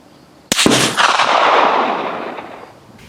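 A single loud gunshot at an outdoor shooting range firing military surplus ammunition, a sharp crack followed by a long rolling echo that fades over about two seconds.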